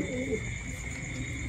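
A Thai Titan pigeon brooding eggs gives a brief low coo close by, soft against steady background hum.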